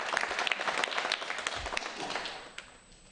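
An audience claps for poets at a Hindi poetry gathering, scattered crisp hand claps forming steady applause that thins out toward the end.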